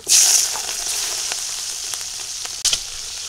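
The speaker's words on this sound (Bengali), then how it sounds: "আর এই চুলে এবার চিংড়ি মাছ ভাজবো" Prawns hit hot oil on a village stove with a loud initial hiss that settles into a steady, close sizzle, scattered crackles and a sharp flare-up near the end, no voices.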